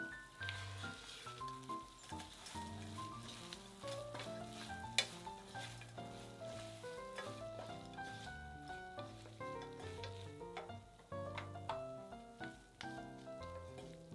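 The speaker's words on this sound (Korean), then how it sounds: "멸치 넣고 한 번 더 볶아주세요." Anchovies and shishito peppers stir-fried in a pan, a soft sizzle broken by repeated scraping strokes of a spatula, fairly faint with music playing underneath.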